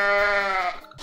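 A single long, loud, nasal bleat from a goat in the video game Goat Simulator, wavering and then trailing off into a brief scuffling noise.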